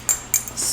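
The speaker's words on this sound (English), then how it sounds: "Use my little Snow White mug" A small Snow White ceramic mug handled while making tea gives two or three quick, bright clinks in close succession, close and clear.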